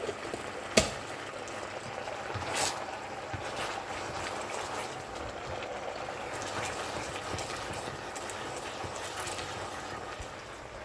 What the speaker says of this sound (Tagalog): Pakuluin ulit muna natin.